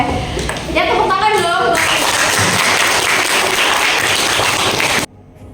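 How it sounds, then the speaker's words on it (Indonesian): A classroom group bursts into applause after a coaching session, dense clapping sustained for about three seconds before cutting off abruptly. "Ya tepuk tangan dong."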